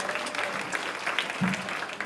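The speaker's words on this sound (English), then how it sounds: "Give Beatrice a round of applause" Steady applause from a crowd, clapping evenly throughout at moderate loudness with no voices standing out.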